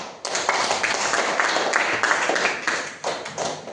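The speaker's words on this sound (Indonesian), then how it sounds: "Kita beri aplaus." A classroom of students claps for the first group, a lively burst of many hands applauding at close range, uneven and rhythmic, sustained for several seconds with no talking.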